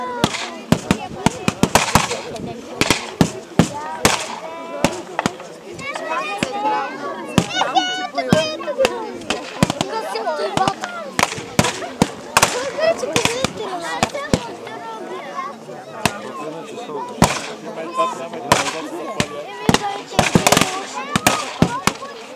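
Sharp blasts and cracks from a historical battle reenactment in Dobrich go off in rapid, irregular bursts, loud and close, mixed with shouting and excited voices throughout.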